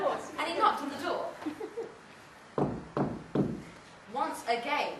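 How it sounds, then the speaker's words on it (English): Several sharp knocks on a door land in a quick cluster partway through, surrounded by a storyteller's speech before and after. "And he knocked on the door."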